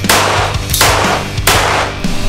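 Very powerful pistol firing: three loud, sharp gunshots spaced under a second apart, each with a booming outdoor tail, close and dominant.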